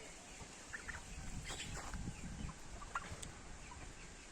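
Turkeys gobble and cluck faintly in a farmyard, with a few scattered calls rising over steady low background noise.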